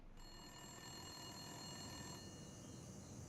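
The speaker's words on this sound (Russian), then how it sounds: "Проснулся от телефонного звонка." Telephone ringing in a visual novel video game, a steady electronic bell tone sustained without pause, clear and alone with no talk.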